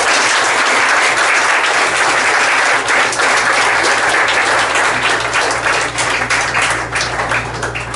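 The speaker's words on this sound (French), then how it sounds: "Je demande à l'Assemblée d'applaudir pour moi." A church congregation at a Sunday service breaks into loud, steady applause, dense clapping filling the room for the whole stretch and easing slightly near the end.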